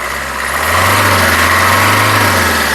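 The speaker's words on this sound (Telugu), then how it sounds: "ఒకసారి యాక్సిలేటర్ ఇచ్చి చూపిస్తున్నాను" A 2019 Maruti Suzuki Brezza VDI diesel engine rises from idle into a steady rev, the loud close drone climbing in pitch and holding for a couple of seconds.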